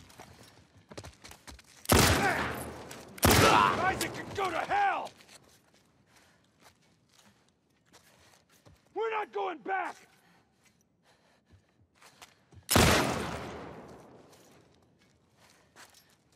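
Several loud gunshots from a fully upgraded gun in The Last of Us 2 ring out at wide intervals, each with a long echoing tail, while a character grunts and breathes between shots.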